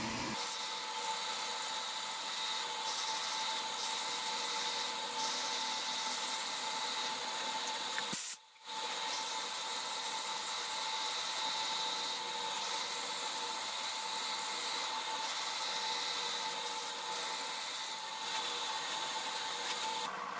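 Sanding a resin goblet to smooth out ridges, starting with 80-grit paper: a steady, continuous abrasive hiss that runs throughout, broken only by one brief pause midway.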